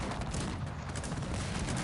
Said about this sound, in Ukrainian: Подобається мені такі постріли.